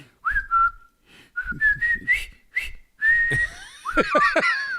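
Someone whistles a short camp call, a few clear rising and sliding notes in separate bursts, ending in a quicker warbling flourish, close and fairly loud.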